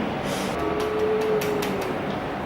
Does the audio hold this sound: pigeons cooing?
no